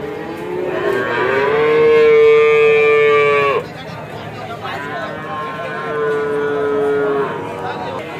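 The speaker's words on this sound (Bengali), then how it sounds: "ছোট ছোট গরু, সব ছোট ছোট সাইজের গরু মাশাআল্লাহ" Small cattle moo at the Aronkhola cattle market in Ishwardi, Pabna. One long, loud, drawn-out moo is followed after a short gap by a second moo, with crowd chatter in the background.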